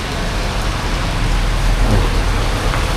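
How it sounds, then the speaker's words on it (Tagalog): Heavy rain pours down onto a street and sidewalk on an avenue in Tacloban in the early evening, a dense, steady roar of water that holds at a loud level from start to finish, with no voices. "Sobrang malakas yung ulan guys."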